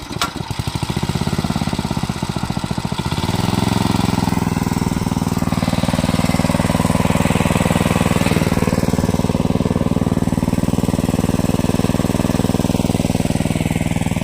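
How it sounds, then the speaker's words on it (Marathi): An Aakash 7.5 hp water pump engine cranks briefly, then settles into a loud, steady running drone with a constant rhythmic throb that holds close and unbroken to the end. "आपण चालू केलेलं आहे मशीन"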